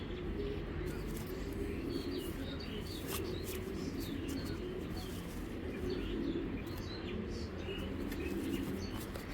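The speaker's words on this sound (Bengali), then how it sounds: "খুবই সুন্দর কবুতরটা।" Low, continuous cooing from a large Kaldom pigeon fills the loft, with occasional chirps and a brief flutter of wings mixed into steady background noise.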